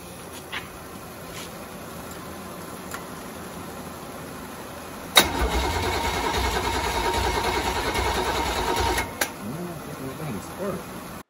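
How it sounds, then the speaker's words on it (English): A Buick 350 Super Stock engine cranks and catches abruptly, then runs loud and rough for about four seconds before cutting off, with quiet shop ambience before and after. "we're going to fire up the Buick Superstocker"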